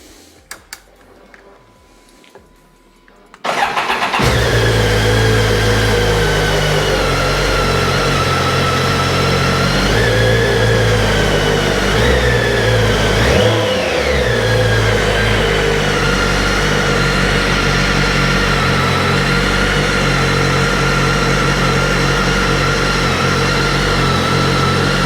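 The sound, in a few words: BMW K1300GT motorcycle engine starting, revving and idling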